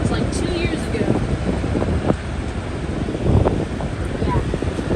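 A 2021 Lasko 20-inch Power Plus box fan runs on high with a steady, close broadband whoosh of moving air and some rumble, with faint voices underneath.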